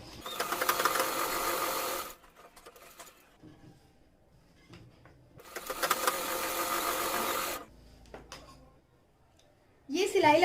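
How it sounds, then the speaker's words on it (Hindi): A sewing machine stitches the side seam of a salwar in two close, loud bursts of rapid needle clatter separated by quiet pauses, with a third burst starting at the end. "अब यहाँ पर भी हम करीब 1 पैर का मार्जिन लेते हुए सिलाई लगाएंगे और इसी तरीके से दूसरी साइड भी सिलाई लगाएंगे।"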